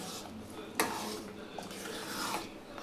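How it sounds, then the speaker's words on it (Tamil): A spoon scrapes and rasps through semolina cooking with ghee and oil in a pan, soft gritty stirring strokes with a sharp clink near the start, quiet and close. "இப்போ எல்லாத்தையும் மிக்ஸ் பண்ணி நல்லா கலந்து விட்டுக்குங்க."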